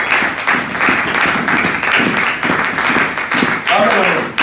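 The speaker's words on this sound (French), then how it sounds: "On acclame encore les Seigneurs." A church congregation claps and cheers in acclamation, a steady dense wash of applause with voices mixed in, loud and close throughout.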